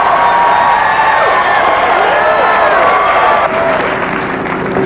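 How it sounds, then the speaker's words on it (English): A television studio audience claps and cheers loudly for a guest, a dense, close wave of applause mixed with whoops and shouts that dips slightly near the end. "round of applause"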